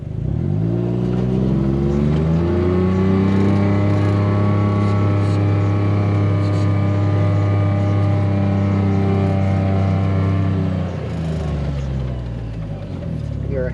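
A John Deere Gator 825i utility vehicle climbs a hill, its engine holding a loud, steady drone that rises at the start and eases off near the end, heard up close.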